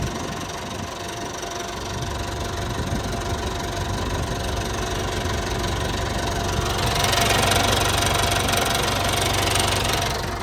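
The diesel engine of a CAT 416B backhoe loader runs steadily at close range, a continuous rumbling idle that grows slightly louder and brighter partway through, with no one talking.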